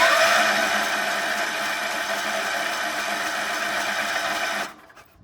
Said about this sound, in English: I'll spin it over just a little bit more to see if we can get some fuel in the carburetor.